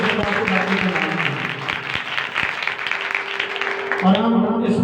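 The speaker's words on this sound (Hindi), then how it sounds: "तो जोरदार तालियां से खुदा की तारीफ करें।" Applause from a church congregation at a Pakistani Christian ministry service in Lahore, a steady crowd clapping that fills the whole stretch at moderate loudness, with a voice briefly heard over it near the end.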